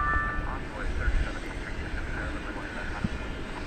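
An American Airlines airliner taking off from runway 18 left at DFW produces a distant, steady jet roar under continuous radio chatter from air traffic control.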